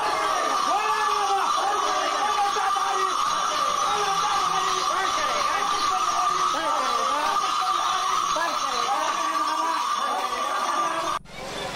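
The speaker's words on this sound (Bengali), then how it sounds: "বাহিরে চলছে বৃষ্টি, ভক্তের সমাগম, ভিড় যেন বেড়েই চলেছে।" At the Tarakeswar Shravani Mela, heavy rain pours in a steady, dense hiss while a large crowd of devotees murmurs and calls out beneath it, with voices mixed throughout.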